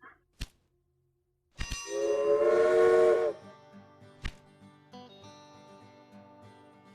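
In the video game Railway Empire, a steam train whistle blows once in a long, loud blast, framed by sharp clanks and dings, with faint mechanical rumble and hiss trailing after.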